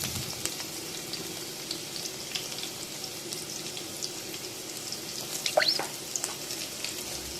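Cumin, mustard seeds, green chillies and curry leaves frying in oil in a kadai over a gas flame for fish curry, giving a steady close sizzle with small pops and splutters and no talking.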